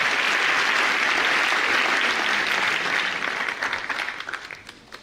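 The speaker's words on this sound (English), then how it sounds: "Better clap." Audience at an education and leadership congress applauds a speaker, a loud, dense, continuous round of clapping that holds steady before thinning and fading toward the end.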